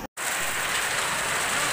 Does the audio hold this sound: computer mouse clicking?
no